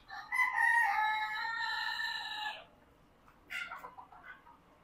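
A rooster gives one loud, drawn-out crow up close in a country-chicken poultry shed, followed by a brief gap and then a shorter burst of fowl calls.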